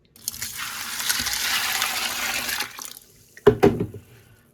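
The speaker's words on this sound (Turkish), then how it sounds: "İçerisine bir ketil bir litreden fazla su atıyoruz." Over a litre of water poured from a kettle into a large bucket, a steady splashing gush for about two and a half seconds, followed by a few short, louder sloshes as the pour ends.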